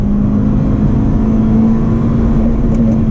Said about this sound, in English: holds it at red line, and it just keeps bouncing off, like boop boop boop boop boop, bounce off the limiter